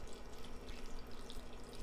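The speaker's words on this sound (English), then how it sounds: "I'm adding 2 cups of water." Water poured into a pot holding cauliflower florets, a soft steady trickling and splashing at low level, with no talking.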